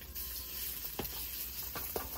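Scrambled eggs for seblak sizzle faintly in a pan at an outdoor garden hut, a soft constant hiss punctuated by a few sharp scrapes of a spatula.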